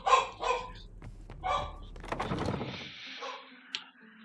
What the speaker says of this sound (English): Not sure what my dog is tweaking about.